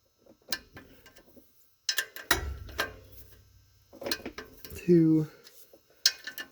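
A torque wrench tightens bolts in a crisscross pattern during a ZF5 transmission swap, giving sharp metallic clicks and ratcheting bursts separated by pauses, with a brief low mechanical hum and a voice counting between them.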